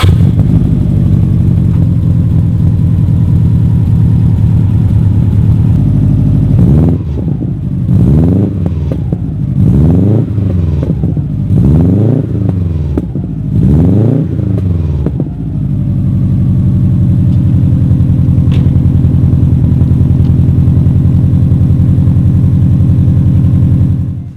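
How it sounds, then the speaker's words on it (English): A 2005 Subaru STI engine cold starts after a steady hum, cranking and firing through a burst of loud revs before settling into a steady, throaty idle that continues to the end. "let's get a cold start on this thing,"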